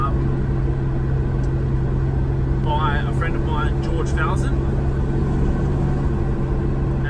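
A restored XA Ford Falcon ute's engine drones in a steady low rumble with a constant hum while driving in strong wind, under someone talking throughout.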